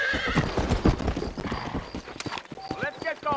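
A horse in the Red Dead Redemption video game gallops with close, rhythmic clip-clop hoofbeats and lets out whinnies near the end, while a character speaks over the riding.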